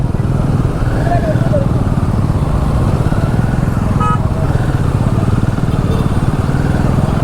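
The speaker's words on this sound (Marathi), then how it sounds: "खूप ट्रॅफिक आहे." Heavy road traffic near Pachad on the way to the Shivrajyabhishek celebration, with a loud, constant engine drone close by, likely from a motorcycle ridden through the traffic, plus a brief horn toot midway.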